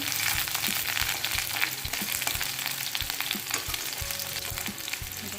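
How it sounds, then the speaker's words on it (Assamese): Onions sizzling and crackling in hot oil until reddish-brown, a steady close-up fry with soft scraping sounds of stirring throughout. "এইখিনি ভালকৈ ভাজি ল'ব লাগিব ৰঙচুৱা হোৱালৈকে"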